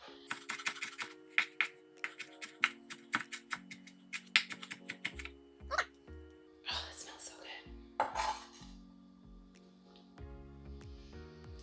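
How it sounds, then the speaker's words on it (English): A slightly dull kitchen knife slices ginger thinly on a cutting board, a rapid series of crisp chopping knocks followed by a few slower, heavier cuts with short pauses, close and distinct. "with the ginger, you want to slice it relatively thin"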